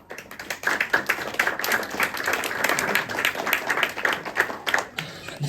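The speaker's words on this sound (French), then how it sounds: "Je suis sûr qu'il a entendu nos applaudissements." A French-speaking audience at a testimony evening applauds steadily for several seconds, with dense, even clapping close to the listener and fading slightly toward the end.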